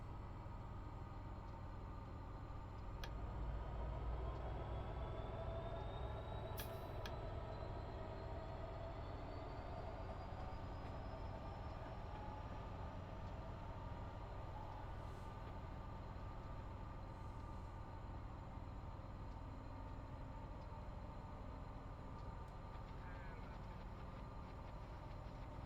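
Train rolling slowly through a rail yard at Cajon Pass in California, a steady low rumble and drone of wheels and cars with faint squeals and clanks throughout, heard close and without talk.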